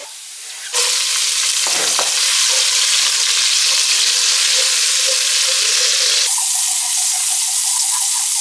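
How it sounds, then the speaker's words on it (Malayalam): Chopped ginger and garlic fry in hot oil in a pan for dragon chicken, a loud, even, hissing sizzle that starts abruptly and runs unbroken for several seconds, with no speech. "ഇഞ്ചി വെളുത്തുള്ളിയുടെ പച്ചമണം പോകണം വരെ ഒന്ന് നമുക്ക് മൂപ്പിച്ചെടുക്കും."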